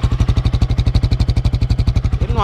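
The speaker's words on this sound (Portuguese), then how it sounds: "Ele dá uma estraladinha na ponta, mas é muito, muito, muito de boa esse escape, velho." A motorcycle idles close up through a cheap, rough-looking aftermarket exhaust, a loud, steady stream of rapid thumping pulses with a slight clattery edge and no talking.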